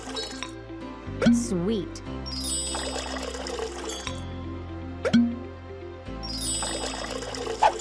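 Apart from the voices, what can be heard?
mixing and pouring a fruity beverage in a video game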